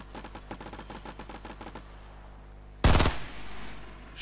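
Gunfire in Fortnite, a rapid burst of about a dozen evenly spaced shots followed after a pause by one loud, heavy blast that trails off, close and prominent.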